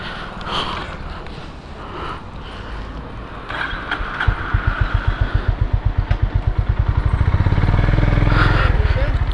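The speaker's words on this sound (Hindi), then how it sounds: "so finally I got to test ride the new Himalayan" Royal Enfield Himalayan 450 motorcycle engine, at first faint under someone talking, then a near, steady run of rapid thumping firing pulses that swells and thickens as the engine builds toward a louder, continuous drone.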